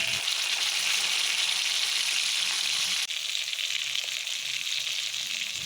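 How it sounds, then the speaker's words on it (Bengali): Steady, loud sizzling of fish frying in hot oil in a pan, a continuous crackling hiss with a brief dip partway through, no voices. "এইভাবে আমি সব মাছগুলো এক এক করে ভেজে নেব"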